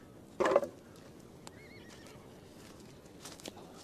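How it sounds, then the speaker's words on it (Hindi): A horse gives one short, sharp whinny near the start, fairly loud against a quiet outdoor background, followed by faint scattered sounds. "घोड़े भी हैं पर मुस्कुरा रहे हैं।"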